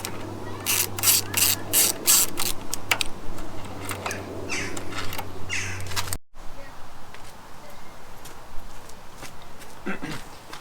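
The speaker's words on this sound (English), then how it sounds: "Once we remove this bolts, we are able to lift the tank." A ratchet loosens the fuel tank bolts on a Yamaha XT1200Z motorcycle, giving rapid close clicking bursts, then a quieter stretch with faint handling noise after a cut.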